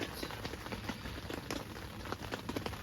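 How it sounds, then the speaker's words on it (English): Icy rain falls steadily on a small shack, with close irregular drips and taps striking a surface over a constant wash of patter. "listening to the rain"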